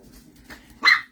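Puppies barking indoors in a craft room: a few soft, scattered yaps and whimpers followed by one louder, sharper bark near the end, fairly close.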